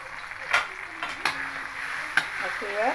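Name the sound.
chili paste frying in sesame oil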